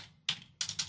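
Quick bursts of close computer keyboard typing while entering a millimetre measurement on a construction plan, with three or four crisp clustered keystrokes within a second and no talk.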